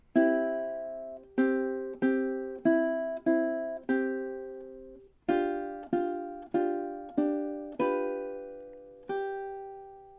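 Ukulele plays measures 18 and 19 of the Jamaican folk song Day-O (The Banana Boat Song): a run of plucked, ringing chords and notes that decay between attacks, played alone with no talking.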